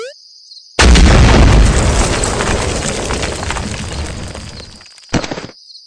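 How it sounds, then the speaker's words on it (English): An animated jeep explodes in a sudden loud boom that rolls into a long, slowly fading rumble, followed by a short second crash near the end. "The Jeep is destroyed."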